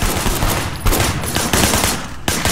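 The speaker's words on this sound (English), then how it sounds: "Shooting at the guys over there." Rapid gunfire in the video game Sleeping Dogs, dense overlapping automatic bursts and shots crackling loudly and continuously with no pauses.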